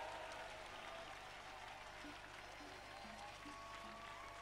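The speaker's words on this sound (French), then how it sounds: "Let us clap for Jesus" Congregation clapping together at a church prayer and intercession gathering, a dense, steady wash of applause filling the whole clip with no pauses or talk.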